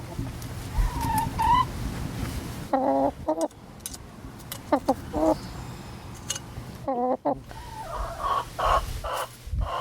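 Backyard chickens clucking and squawking close to the microphone in short bursts, several overlapping calls over a low steady background hum.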